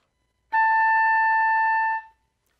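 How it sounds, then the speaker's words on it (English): An oboe holds a single high A, played as a harmonic by fingering low D and pressing the side octave key: one clean, steady sustained note of about a second and a half, alone, fading quickly at the end. "So if I'm playing the high A, for instance, I finger a low D, press the side octave key, and the note's going to sound pretty foggy"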